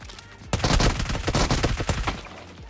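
Rapid bursts of gunfire ring out in a PUBG Mobile match, a dense volley of loud, close shots followed by scattered further rounds.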